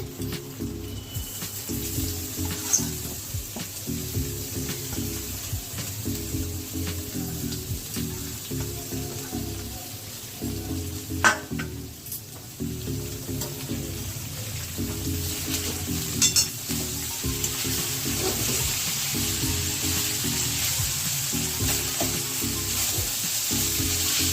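Banana flower and prawns sizzle and get stirred in a pan, a steady frying hiss with repeated rhythmic scraping strokes of a spatula, moderately close and without any talking.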